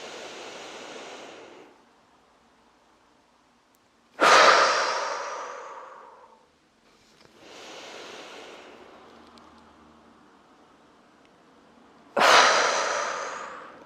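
Long breaths pushed out through the mouth during a yoga neck and shoulder release, two slow airy exhalations, each a few seconds long, separated by sharp, louder inhalations, close and unaccompanied by talk.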